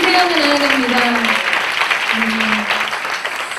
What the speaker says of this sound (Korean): 여기 우리 예배를 받으신 하나님 앞에 우리 영광과 감사의 큰 박수 올려드리며 나아갑니다